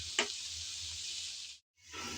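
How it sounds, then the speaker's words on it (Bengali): Pumpkin pieces with the peel on, stirred and fried in oil, a loud bright steady hiss with a spoon tap at the start, cutting out briefly before resuming; no speech. "কিছুক্ষণ নেড়ে চেড়ে তেলের মধ্যে ভেজে নিলাম।"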